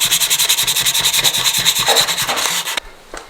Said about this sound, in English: So just sanding it now, and then I'm going to get it ready to paint here.